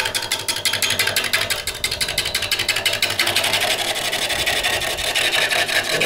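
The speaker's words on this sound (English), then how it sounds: "I love the torque that's on this Robust lathe" Wood turning on a Robust lathe while roughing a blank toward a cylinder, with a loud, steady, rapid rhythmic chatter of the tool cutting the spinning wood close up.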